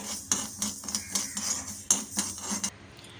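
Fenugreek seeds and raw rice dry-roasting in a pan over medium flame, stirred with a utensil that scrapes and taps the metal in a steady series of close, light clinks, then a brief quiet at the end.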